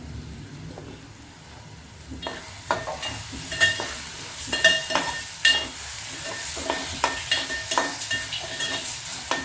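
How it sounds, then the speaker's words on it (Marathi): Ghee with a little oil added, sizzling in a pan for veg pulao, a steady hiss joined midway by sharp scraping and stirring clicks, close and fairly loud. "तूप आपलं जळू नये म्हणून मी थोडंसं तेल बी टाकत आहे."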